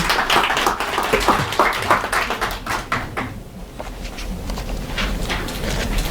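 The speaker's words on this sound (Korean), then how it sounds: "박수 부탁드립니다." An audience at a Korean forum on improving language culture claps to welcome a presenter. The clapping is busy and fairly close, thins out midway, then picks up again.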